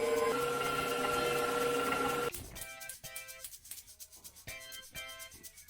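Spatula scraping down a mixing bowl while preparing crème brûlée custard, a steady rubbing scrape for about two seconds, then a string of lighter, separate scrapes and taps close by.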